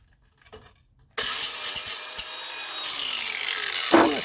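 Tool cutting through a stuck part on a Kia Sportage: after a quiet start with a faint tap, a loud, steady rasping cut kicks in abruptly and runs continuously to the end, with a sharper knock near the finish.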